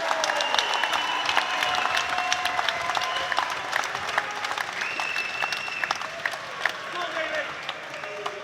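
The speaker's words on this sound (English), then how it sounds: "round of applause for our finalists this evening" A crowd at a 65 kg kickboxing tournament applauds the finalists with steady, dense clapping and scattered cheers, mixed with a voice talking over it throughout.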